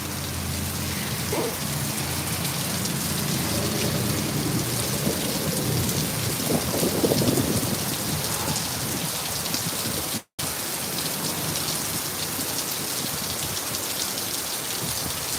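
Heavy, blinding torrential rain pours down steadily during a thunderstorm, a dense and loud wash of downpour with deep rumbles of thunder rolling underneath, broken by one brief dropout near the end.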